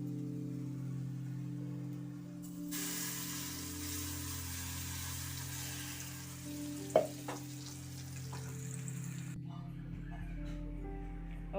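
Ground red chutney, Telangana yerra pachadi, hits a hot tempering in the pan with a sudden loud sizzle that hisses steadily for several seconds, broken by a few stirring knocks, then dies away.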